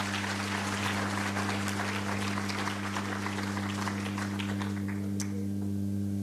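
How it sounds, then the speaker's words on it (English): Audience applause at a public HIV self-testing event, a steady wash of clapping over a constant low electrical hum that thins out toward the end. "Can we give them a round of applause?"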